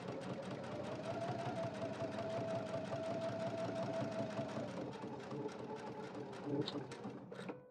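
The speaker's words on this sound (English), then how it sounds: "we're going to sew along this edge" Sewing machine stitching along the edge of a faux leather crossbody bag with a fleece-like lining, a steady fast mechanical whir with needle chatter, fairly quiet and close, slowing and ending with a few clicks.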